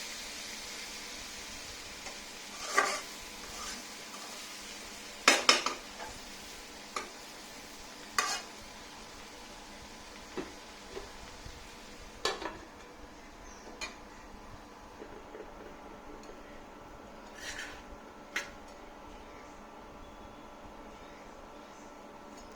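Leafy greens with coriander powder and fish oil are stirred and sautéed in a pan: soft, irregular spatula scrapes over a faint, steady sizzle, heard quietly and up close.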